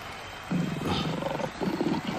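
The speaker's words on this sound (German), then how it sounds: "Ich glaube, ich habe einen Löwen gehört." A lion gives a few deep, rhythmic roaring grunts in pulsing bursts, moderately loud and alone, with a brief pause between two groups.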